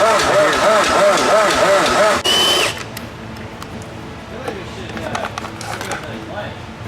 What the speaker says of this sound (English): Is the motor turning over?